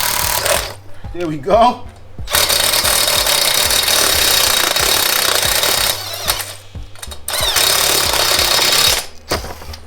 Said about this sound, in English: we used a 3/16 drill bit to get the rivets out